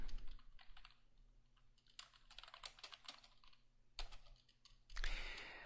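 Typing on a computer keyboard, quiet close-up bursts of rapid key clicks with short pauses between runs, ending in a brief louder clatter.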